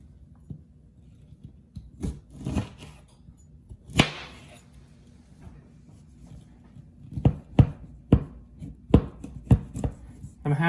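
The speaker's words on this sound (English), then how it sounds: "take 2 lemons, and we're going to quarter them" A knife quarters two lemons on a cutting board, starting with a few scattered cuts and ending in a run of sharp, close chops.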